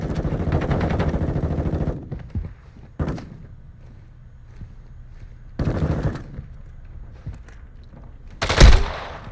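Bursts of automatic gunfire in Warzone 2, the battle royale shooter, with a long rattling volley, several sharp single shots and a later burst, ending in a loud close blast.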